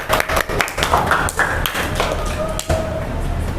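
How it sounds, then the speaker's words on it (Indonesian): A classroom group claps for a student who is about to present a poem she wrote, giving a short burst of uneven applause with sharp taps and thuds under some background murmur. "tepuk tangan dulu buat Putri."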